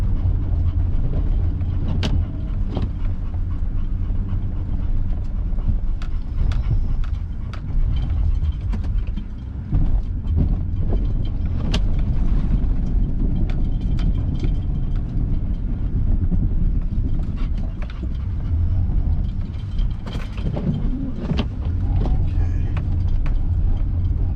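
A snow plow vehicle spinning its wheels on flat snowy ground in Minocqua, Wisconsin, with a loud, continuous mechanical rumble and rattling, clunking noises throughout.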